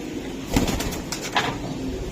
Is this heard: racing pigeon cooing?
yes